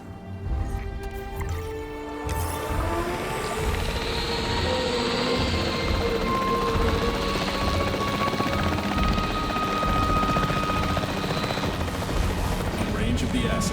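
The capture team helicopter in Jurassic World Evolution 3 drones on steadily with rotor noise under game sound effects, loud and continuous, with speech-like sounds mixed in.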